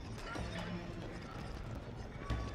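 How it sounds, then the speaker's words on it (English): Horse hooves clip-clopping in the Age of Empires IV campaign, a steady busy rhythm mixed with battle ambience and a brief whinny, with a thump near the end. "Oh, that's a nice horse."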